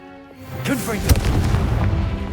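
A Confringo fire blast spell is cast in the video game Hogwarts Legacy, a loud booming explosion swelling into a sustained crackling rumble over about two seconds.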